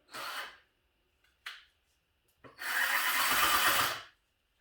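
A cordless drill fitted with an old, worn diamond bit, drilling into an old pool table to make a bonsai pot: two short whirring bursts, then a longer steady grinding run lasting about a second and a half, close and loud.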